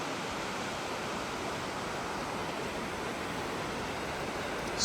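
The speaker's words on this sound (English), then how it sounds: "when we're getting closer to the fall, you can kind of see a little bit of it through there. You can also hear it." McArthur-Burney Falls heard from a trail at a distance, a steady, even broadband rush of falling water with no pauses or voices.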